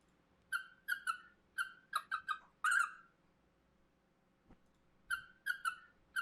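A recorded bird sings in short, bright whistled chirps, first in a quick cluster, then a pause, then a few more clear notes, alone against faint background hum.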